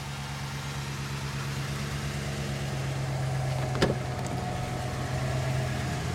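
A 2011 Dodge Ram 1500 Laramie Longhorn 4x4 idles after a remote start, a steady low engine hum with a brief clunk midway, heard close and alone.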